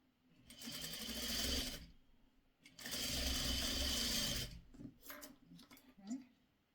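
A sewing machine stitches two fabric quilt squares together in two sustained whirring bursts, each lasting about one to two seconds, followed by faint clicks and handling sounds.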